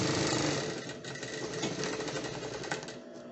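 A sewing machine runs a first pass of a French seam on a child's romper, a steady rapid mechanical whir with fine stitch ticking that continues loudly and alone, without pause.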